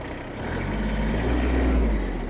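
A Kubota B-72 mini tractor pulling away, its small diesel engine rising from idle into a steady, loud, close working drone.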